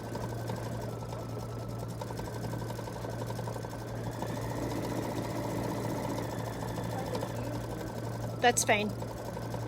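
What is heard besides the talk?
embroidery machine stitching a Kimberbell bench pillow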